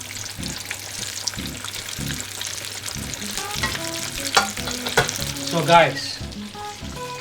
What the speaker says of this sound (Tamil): ஸோ ஒரு தடவைக்கு நீங்கள் ஒரு 3 சிக்கன் பொரிக்கிறது சேஃபர்